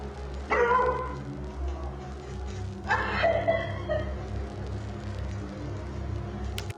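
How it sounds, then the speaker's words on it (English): A pet dog barks fiercely indoors while looking out a window, two gruff barks spaced a few seconds apart, muffled and moderately distant over a steady low hum. "the TikToker's dog reacts again, barking fiercely while gazing out of various windows"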